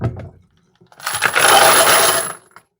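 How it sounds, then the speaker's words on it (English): Brass cartridge cases are poured from a container, a loud cascade of bright metallic clinking and jingling that builds, sustains for about a second and a half, then trails off into a few last clinks. "we're gonna dump our brass in here."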